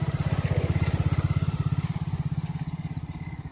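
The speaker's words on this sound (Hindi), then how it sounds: "देखो लड़का चारा ला रहा है मोटरसाइकिल पे" A motorcycle carrying fodder passes close by on a farm, its engine pulsing in a rapid, steady thumping rhythm that fades slightly toward the end.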